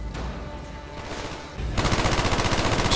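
Unsilenced automatic gunfire in the Call of Duty Black Ops campaign: muffled shots at first, then from midway a loud, rapid, steady burst of rhythmic fire running to the end.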